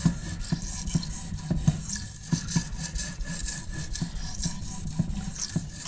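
A blade is sharpened on an Arkansas stone, producing steady, fairly quiet rasping strokes that scrape back and forth in a close, even rhythm.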